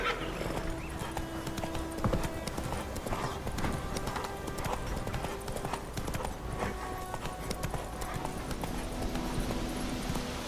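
The horse Roach gallops in The Witcher 3, a fast, steady clip-clop of hooves with a whinny, under faint game voices and background bustle.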